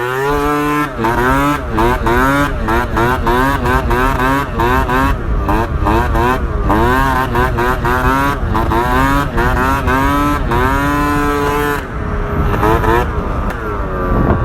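A Nitro 70 scooter with an Athena kit, TPR exhaust and a 21 mm carburetor revving hard: a loud, close two-stroke engine with repeated rising and falling revs, buzzing high and strong, continuous throughout.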